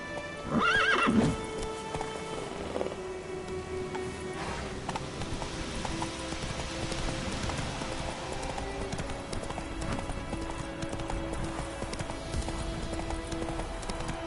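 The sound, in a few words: horse named Roach galloping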